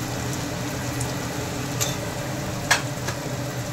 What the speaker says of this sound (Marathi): याला मस्त परतून घेऊया